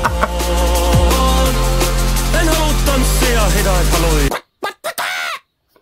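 A Finnish pop song plays loud with heavy beats and chicken clucking woven into the track, then cuts off into a few brief stuttered fragments and silence.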